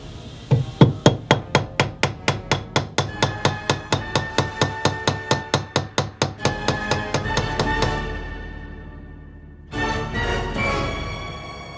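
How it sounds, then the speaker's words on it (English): Metal rivets on a Victorinox Swiss Army knife being flattened with a hammer, a steady run of about thirty sharp, ringing strikes in even rhythm, close and loud, followed by a brief pause and a few scraping handling sounds. "so that I can flatten the rivet on the other end"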